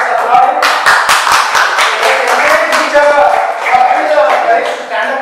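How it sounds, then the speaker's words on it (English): Audience applause at a youth programme event, steady dense clapping from a crowd with voices mixed in throughout. "Let's applaud him."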